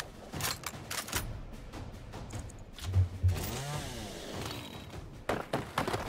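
A chainsaw kill in the video game Gears Tactics: a loud revving, ripping chainsaw burst with grinding and gory impacts, amid clattering game effects and short gunfire-like cracks.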